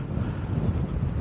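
Wind gusts across a links golf course, heard as a short, low, buffeting rumble against the microphone with no voices.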